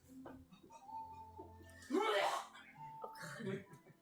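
A voice imitates a cough followed by sniffling, close up, between quiet speech.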